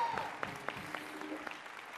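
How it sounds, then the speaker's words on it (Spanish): Audience applause at an outdoor concert in Valladolid's Plaza Mayor, a sustained patter of clapping from a crowd with faint voices mixed in. "Un aplauso, ¿no?"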